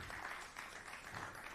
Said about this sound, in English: Maybe we can now clap for all the teams that have already presented